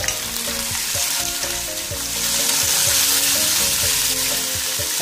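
Shrimp and squid stir-frying in a hot pan for seafood rice noodles, a loud steady sizzle with sharp crackles and spatters plus repeated scraping stir strokes, close and continuous with no talking.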